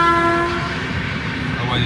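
A train rumbling past nearby at Mundra, its horn sounding steadily at the start before fading into continuous rolling noise.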